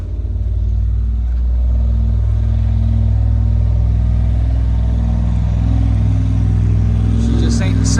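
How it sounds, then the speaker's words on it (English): Junkyard big block Chevy V8 in a mega truck running with no blower, a loud, close, deep engine drone that holds steady and builds slightly, with people talking faintly underneath. "see if it'll spin all the tires"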